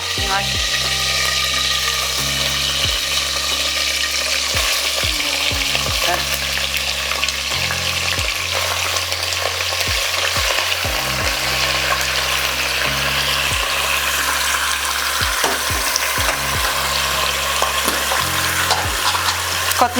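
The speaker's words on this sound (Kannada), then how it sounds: "ಇವಾಗ ಚಿಕನ್ ಹಾಕ್ಬೇಕಾ ಹಾಕ್ಲಾ ನಾನು ಕಾಯ್ದಿದೆ ಎಣ್ಣೆ" Country chicken frying loudly in hot oil, a continuous close crackling sizzle with intermittent stirring scrapes and a steady low hum throughout.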